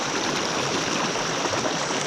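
Floodwater rushing over a dike in a flooded wildlife management area, a steady broadband wash of flowing water, close and continuous with no voices.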